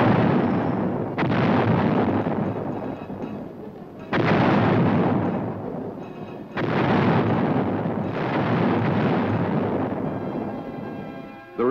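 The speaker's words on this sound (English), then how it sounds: "Later, these were to be replaced by 155-millimeter howitzers," Heavy 155-millimeter howitzer artillery fire, with four deep, booming blasts spaced a few seconds apart, each rolling into a long rumbling echo that carries into the next.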